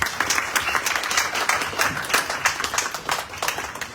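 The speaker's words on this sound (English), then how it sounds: "she needs some encouragement from everyone with a clapping." A crowd at a Radha Krishna boat festival in New York claps to cheer on a shy birthday girl before she cuts her cake, a close, continuous patter of many hands with no voices.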